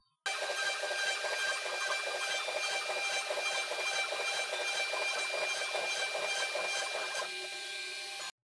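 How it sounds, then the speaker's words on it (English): A CNC machine runs a quarter-inch ball end mill along a guitar neck, smoothing a small radius; a steady, dense cutting whine and chatter holds at constant loudness for about eight seconds with no talking. "with a quarter inch ball end mill, I can smooth out this little radius here"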